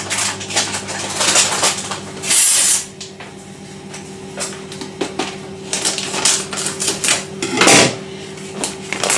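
Dry, hard cannellini beans spill from a bag into a mixing bowl, clattering and rattling in uneven bursts with a couple of louder rushes, close up over a steady low hum.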